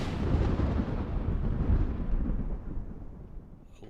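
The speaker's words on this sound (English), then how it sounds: "do a little thunder sound with these two" Thunder sound effect fired from handheld sound buttons, a loud rolling rumble that swells at once and slowly fades over a few seconds, with no talking.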